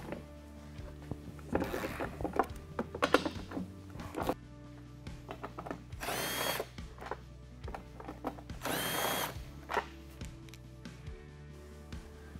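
An impact tool with a 16 mm socket backs out the rear factory bumper bolts on a Jeep Gladiator JT. Several short whirring bursts come up close, separated by clanks and handling noise.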